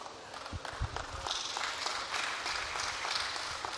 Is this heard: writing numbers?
no